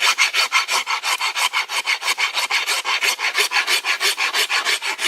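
A hand rasp works the edges of bamboo for a recurve bow, thinning and beveling them in loud, close, rhythmic strokes at an even pace, about four per second, with no voices.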